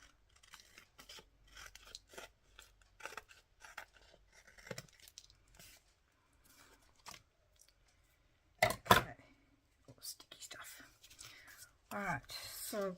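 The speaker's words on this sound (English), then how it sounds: "Just cutting off the ends." Scissors snip the ends off paper for a paper craft project, a series of soft close cuts with a louder crunching snip near the end, while a person talks quietly.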